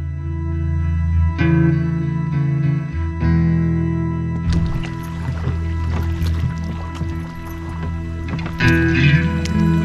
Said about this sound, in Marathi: बांधलेली होडी रस्सीतून मोकळी केली आणि आमच्या सफरीला सुरुवात झाली